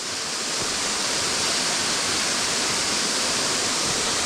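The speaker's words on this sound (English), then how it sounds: "here we are at Wolf Clook waterfall in CRAIK Forest" Wolf Clook waterfall in Craik Forest, Scotland, roars as a steady, loud, broadband rush of falling water that stays constant throughout, with no voices.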